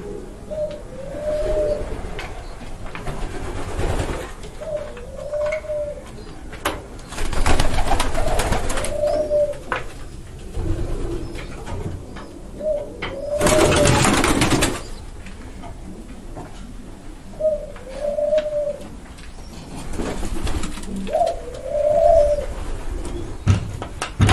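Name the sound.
pigeons cooing in aviary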